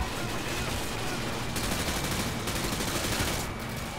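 Call of Duty Modern Warfare gunfire in a firefight: continuous, loud automatic weapon fire with overlapping shots and rapid bursts, a dense unbroken barrage from start to finish.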